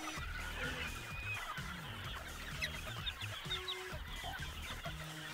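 Native chickens cluck softly and continuously while feeding on wet feed, a low mixed chatter of many birds at moderate distance.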